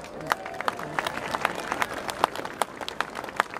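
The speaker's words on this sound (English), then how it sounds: "Give him a round of applause." Crowd clapping at a St Patrick's Day event in Nottingham, sharp, irregular hand claps over a murmuring background, moderately loud and close.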